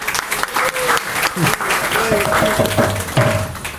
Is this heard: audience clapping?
yes